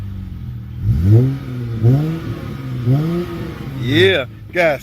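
A car engine, either a 3.6 Pentastar V6 or a V8, rumbling and revving in several rising and falling blips, loud and close, with someone speaking briefly near the end.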